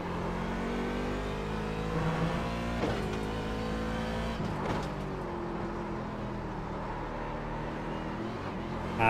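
An IMSA race car engine in iRacing at Watkins Glen drones steadily with rising and falling harmonic whine through the lap, loud and continuous, shifting pitch at two points.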